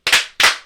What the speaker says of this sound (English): Two claps and a Ric Flair.